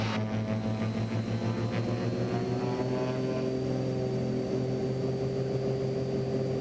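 Twin piston engines of a Beechcraft Baron run up to takeoff power, a loud, steady drone with strong low harmonics that climb slightly in pitch as the power comes in, heard from inside the cabin with no talk.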